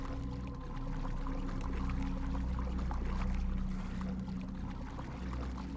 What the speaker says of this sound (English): The valve triggers a rush of water through the pipes, followed by the sound of a door opening.